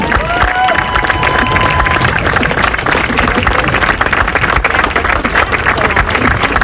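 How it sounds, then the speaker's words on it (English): A stadium crowd at a high school football quarterfinal applauds veterans in attendance, with loud, dense clapping and cheering filling the air without letup and a voice faintly audible over the ovation. "And a good round of applause here."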